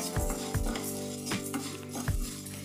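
Moong dal is stir-fried in a pan on a medium flame, with a soft steady sizzle and a few rhythmic scrapes and clinks of a spatula against the metal, close and without talk.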